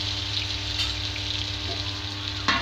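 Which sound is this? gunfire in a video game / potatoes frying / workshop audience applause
potatoes frying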